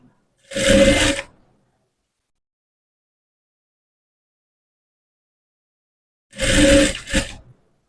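A sewing machine stitches piping onto a blouse in two short loud motor bursts separated by a long silence, the second burst ending with a brief extra whirr.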